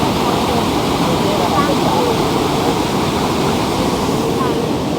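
A waterfall roars with a constant loud rush of water, with faint voices blended into the noise.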